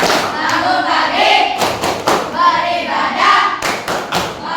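Indonesian schoolchildren perform a rhythmic clapping chant in a classroom lesson: sharp hand claps and thuds in short patterned bursts under loud group chanting.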